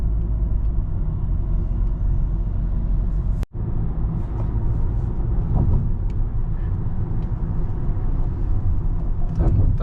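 Road traffic on Susi Road, with cars passing in a steady, loud low rumble of engines and tyres that continues throughout, broken by a brief sharp dropout near the middle.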